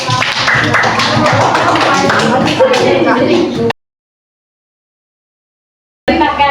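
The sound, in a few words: class clapping for Mbak Dita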